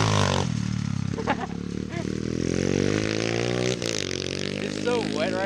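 A pit bike engine revs hard close by on wet ground, its pitch climbing through a gear in a loud, rising whine, while people talk over it.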